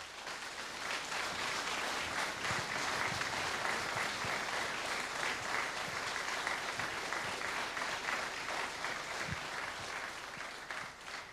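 A big round of applause for award winners at a village festival in Turiška vas, Šmartno and Legen: a steady, even wash of many hands clapping, somewhat distant and sustained for the whole stretch.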